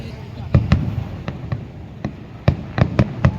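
Fireworks go off in a quick series of about eight sharp, close bangs spaced unevenly over a few seconds, with a low hiss between the bursts.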